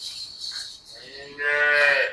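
A Holstein Friesian cow moos nearby, a long, loud, drawn-out low call rising near the end, with faint farm background before it.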